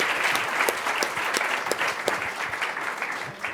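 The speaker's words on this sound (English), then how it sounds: "I think with a round of applause" An audience at a forum on data for children applauds a panel, a full, even patter of many hands that holds steady and fairly loud throughout, with no talk.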